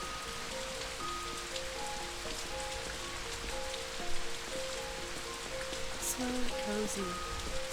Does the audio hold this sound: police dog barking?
no